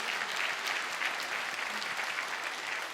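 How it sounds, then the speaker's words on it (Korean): A church congregation applauds a children's praise choir during a Sunday worship service, with steady, even clapping from many hands filling the whole stretch at a moderate level without any voices. "우리 너무 귀한 아이들에게 다시 한번 박수로 격려해 주시길 부탁드립니다."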